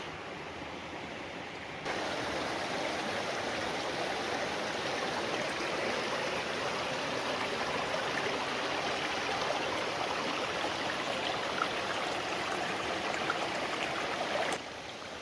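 A creek flows near an abandoned miner's cabin, a steady, even rush of water that starts softly and then holds at a constant broadband hiss, with no talking.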